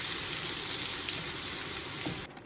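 Tomatoes and onion fry in a pan for a Pakistani-style karela dish, a steady broadband sizzle with faint crackles that cuts out abruptly near the end.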